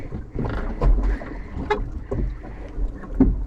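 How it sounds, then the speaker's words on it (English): Steady cold wind roars and buffets the microphone, with sloshing water and creaking from a small rowing boat at sea in rough conditions. "It's very cold and very windy."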